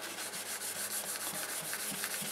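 Black polish is rubbed into a spinning sycamore bowl on a wood lathe, producing a steady, soft, rhythmic rubbing hiss with faint repeated pulses.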